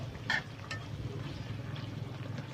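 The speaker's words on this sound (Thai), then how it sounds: "ขมิ้นเหลืองๆ ทอดปลาไหลเหลือง" Yellow eel frying with turmeric in a pan gives a soft, steady sizzle, with a brief clink or stir near the start and low background rumble.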